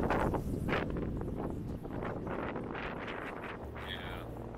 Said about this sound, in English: Wow, you can really hear the wind. It's so loud.